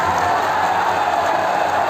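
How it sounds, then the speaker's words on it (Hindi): A dense, continuous wash of applause and crowd noise at a large outdoor political rally, loud and unbroken for a couple of seconds. "ये देखो, आपने ताली बजाई"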